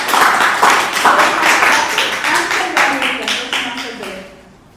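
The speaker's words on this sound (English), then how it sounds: "Please give a big round of applause." Audience applause at a club meeting after a beginner's speech, a dense wash of claps that holds steady and then thins out and fades near the end, with some voices mixed in.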